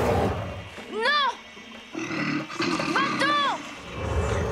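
A bear in a French animated cartoon roars loudly, with growling calls that rise and fall twice, while a frightened character shouts over it.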